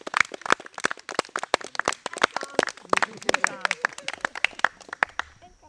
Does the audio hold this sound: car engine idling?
no